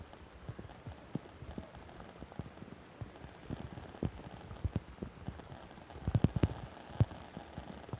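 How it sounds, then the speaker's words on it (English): Heavy rain falls steadily on an outdoor soccer field in Newark, New Jersey, a soft constant hiss of drops with scattered sharper taps close by. "the downpour came and it hasn't stopped"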